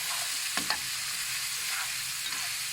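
Potatoes frying in a pan give a steady, moderate sizzle with a couple of brief utensil scrapes near the start, close and continuous with no talking.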